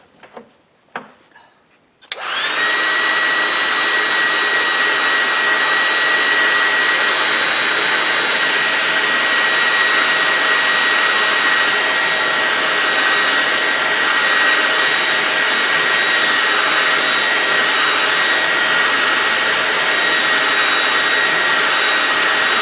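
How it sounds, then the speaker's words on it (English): A hair dryer blows steadily to dry gray paint on a Native American craft project, starting after a few brief clicks and handling noises and then running continuously with a loud, close, even whooshing roar for the rest of the clip. "Can you hand me that dryer?"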